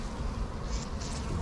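Bees buzz in a dense, continuous hum around a hive whose entrance is crowded with them, close and steady throughout with no talking.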